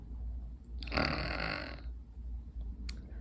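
During a children's yoga session, a person playfully imitates snoring. One breathy, rasping snore swells and fades over about a second, followed by quiet room tone and a faint short sound near the end.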